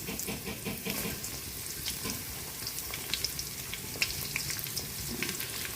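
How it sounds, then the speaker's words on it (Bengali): Chopped onions hit hot oil in a wok for a beef biryani, giving a steady, close sizzle with light crackling pops throughout and no talking. "এখন কড়াইয়ে দিয়ে দিব পেঁয়াজ কুচি"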